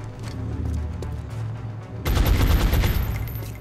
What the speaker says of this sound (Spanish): Empecemos a dispararle.